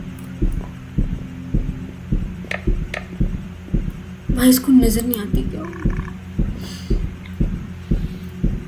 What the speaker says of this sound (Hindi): भाई ये धड़कन क्यों बढ़ती जा रही है मेरी